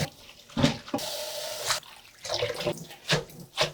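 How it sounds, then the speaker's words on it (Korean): Soaked seaweed is rinsed under running tap water in a sink, with splashing bursts, a short steady pour and irregular swishes, close and moderately loud. "이렇게 해서 이제 지금 미역을 깨끗하게 씻어 볼게요."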